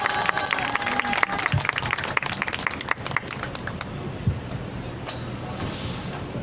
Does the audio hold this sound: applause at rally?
yes